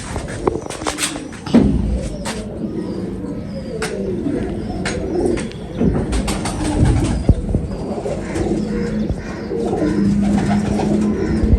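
Pigeons coo in low, throaty bursts against a busy background of rustling and scattered bird chirps, with the cooing continuing throughout.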